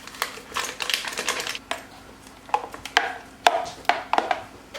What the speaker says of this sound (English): So now we are going to whisk in the dry pudding and the yogurt until it is mixed completely